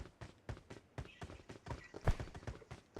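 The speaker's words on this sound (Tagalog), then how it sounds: "May kabayo nga doon." Horse hooves clip-clop in a video game, a steady, evenly spaced walking rhythm of muted thuds, moderately quiet, with no talking.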